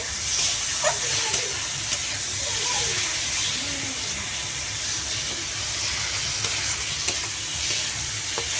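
Water added to tangra fish curry masala in a hot pan, a loud, steady hiss and sizzle close by with faint stirring clicks, and no talk.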